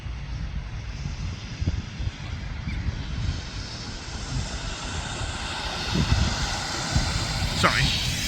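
KLM jet airliner engines at Schiphol Airport, a broad steady roar from some distance with wind buffeting the microphone, and people talking over it.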